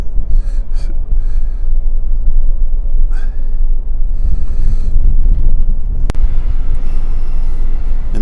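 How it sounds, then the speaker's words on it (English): Wind rumbles low and steady across the microphone near Birkenhead, with a deep background drone and a few faint, brief voice-like sounds on top. "it's getting windy up here"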